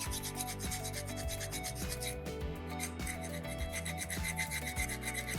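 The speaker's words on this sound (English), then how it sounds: "Notice I'm using my thumb to help hold my rasp on that side edge" A rasp filing the edge of a soapstone carving, with steady repeated rough scraping strokes in a close, even rhythm, heard alone.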